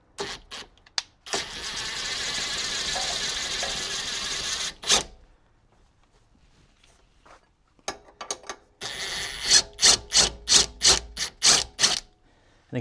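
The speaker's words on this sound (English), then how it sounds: "I'm just going to use a 15 on a swivel socket here." A ratchet with a 15 mm swivel socket works loose a rear shock bolt on a 1979-04 Ford Mustang with an 8.8 rear end, giving a long whirring spin, pauses, then a run of sharp, evenly spaced clicking strokes close by.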